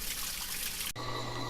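Aquarium water-change pump gurgling and slurping air as the tank level drops, a steady close hissing wash that abruptly shifts to a harsher, buzzier sucking tone.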